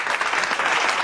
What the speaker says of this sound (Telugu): వెళ్ళి స్పెషల్ బ్లెస్సింగ్స్ క్లాప్స్